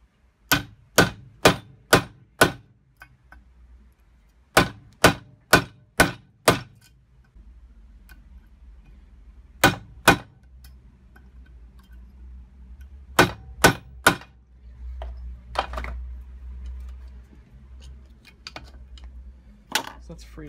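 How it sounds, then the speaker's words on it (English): A chisel struck to cut wire wrapped around a rusty mower shaft rings out as sharp metallic clangs in quick groups of four or five, separated by pauses, close and loud, with faint background hum. "So I'm gonna have to get a chisel and cut that off."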